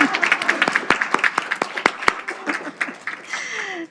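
Audience applause at an alumni tribute awards ceremony, a spread of sharp individual hand claps forming a moderate, uneven burst that thins out toward the end.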